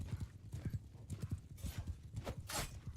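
Horse hooves clip-clop in a rapid galloping rhythm during a large multiplayer video game battle, with a brief neigh, moderately loud and close.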